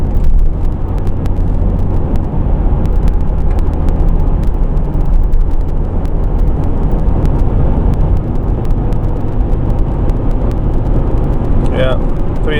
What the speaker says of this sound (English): So, approaching the highway. Let's give it some throttle.